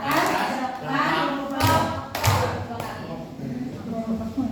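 Children clapping hands and slapping their thighs in a classroom routine, several sharp group claps and thumps standing out while someone talks over them.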